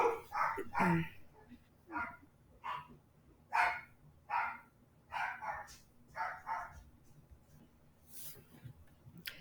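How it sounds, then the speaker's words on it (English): Dogs bark upstairs in a steady series of short, muffled barks, somewhat distant as if from another room, with a faint yip near the end. "The dogs were barking upstairs"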